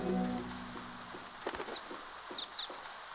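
Several short bird chirps from a bird in the Chibi-Robo video game, quick rising calls in two small bursts over a quiet game background.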